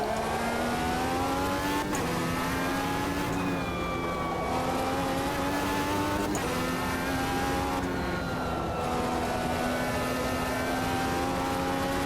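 Race car engine in the Automobilista 2 sim game, a loud sustained drone with rising and falling engine pitch as it accelerates and shifts, steady throughout with no talk.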